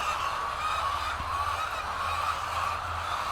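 BV 300 white-egg laying hens inside a poultry shed make a steady, massed clucking din, a continuous crowd of birds heard from within the building with no speech.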